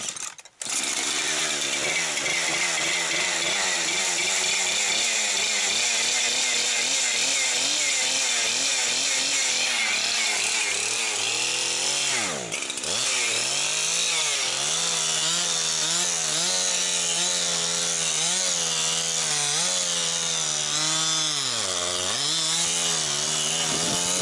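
Two-stroke chainsaw engine running steadily outdoors in winter, a loud continuous whine whose pitch wavers and surges as it works, with a short drop partway through before resuming.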